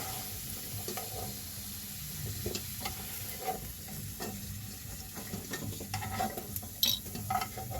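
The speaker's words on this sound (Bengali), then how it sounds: "আলু ভাজাগুলোকে আমি তুলে নিলাম বন্ধুরা এক এক করে আলু ভাজা তুলে নিয়ে" Fried potatoes sizzle in hot oil in a pan as pieces are lifted out one by one, a steady close hiss broken by stirring and occasional clinks, no talk.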